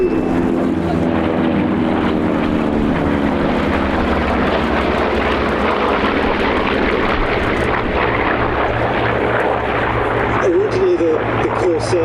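Three Vought Corsair piston-engine fighters fly in formation at the Sywell Airshow 2024, a loud, sustained propeller drone that swells and shifts in pitch as they pass, with crowd noise underneath.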